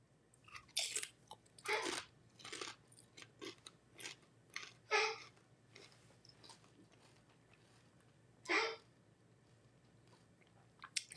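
Someone bites and chews tortilla chips dipped in salsa, giving sharp, close crunches that come in irregular bursts over quiet, with no talking.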